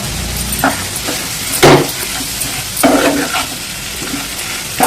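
Sweet potato pieces fry in a pan with garam masala, a steady sizzle broken by a few louder bursts of stirring and scraping as the spatula turns them.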